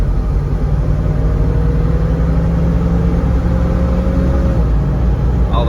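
A 5.7 HEMI car and an AMC 360-engined car accelerate in a 0-60 run, heard as a loud, steady engine drone with a rising whine and heavy low rumble, close and continuous with no talk.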